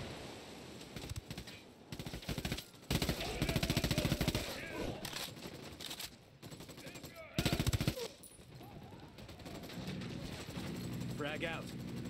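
Rapid automatic gunfire in the tactical shooter Ghost Recon Wildlands, loud bursts of machine-gun fire with sustained volleys and pauses, heard alongside voices calling out during a firefight.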